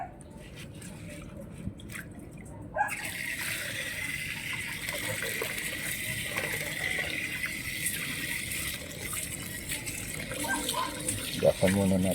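A kitchen tap runs steadily as vegetables are rinsed under it, a close, continuous splashing gush with small clatters, starting after a short quiet moment.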